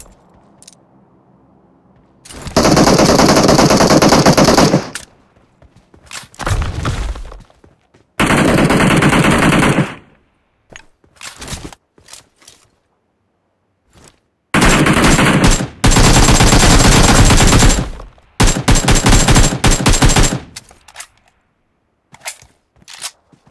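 Bursts of automatic gunfire from the mobile battle royale game PUBG Mobile, played on a Samsung Galaxy. Loud sustained volleys of several seconds alternate with short pauses and isolated single shots, and no voices come through.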